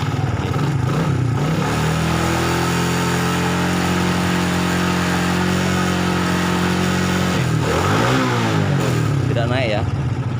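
A motorcycle engine revs up and holds a steady, loud drone for several seconds, then drops back with a brief second rev near the end, all close by during an electrical check of a faulty regulator rectifier.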